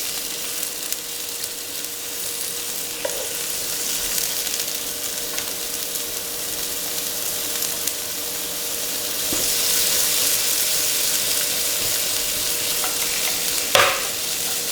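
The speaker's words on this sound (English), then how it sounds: "you can always toss them like this and cook them" Prawns tossed and cooked in a hot pan for a sushi cake, giving a steady broadband sizzle with stirring scrapes and a brief clatter near the end, growing louder midway, no talking.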